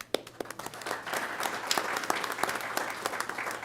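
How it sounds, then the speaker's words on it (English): An audience at a high school district board of education meeting applauds a school team, starting with a few sharp individual claps that build into steady, moderately loud clapping from a modest crowd. "So let's give this team a round of applause."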